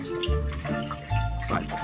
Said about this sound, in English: I can hear water coming inside our water tank.